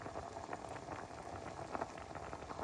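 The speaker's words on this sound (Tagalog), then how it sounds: "Ayan, kumukulo-kulo na siya guys." Ginataang gabi, taro simmered in coconut milk, bubbling in a pot over low heat, a steady faint burble of small pops and bursts close by, with no talking over it.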